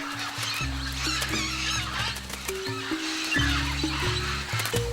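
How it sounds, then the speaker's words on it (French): Hundreds of Amazon parrots and macaws gather at a red clay lick on the Tambopata River banks in Peru, their busy, overlapping squawks and chatter running throughout beneath prominent steady music. "Cette argile rouge attire des centaines de perroquets amazones et de haras sur les berges du fleuve Tambopata au Pérou."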